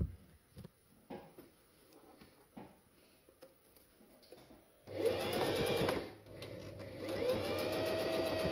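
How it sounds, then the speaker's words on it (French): Sewing machine running steadily as it stitches along the small opening of a fabric pouch, starting after a few quiet handling clicks and continuing close and fairly loud with a brief pause in the middle. "Donc je couds sur toute la longueur de la petite ouverture."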